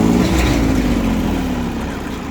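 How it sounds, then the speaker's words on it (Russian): Iseki TU145 compact tractor engine running steadily, a loud, continuous low mechanical drone with a faint whine, no speech over it. "Работает трактор отлично."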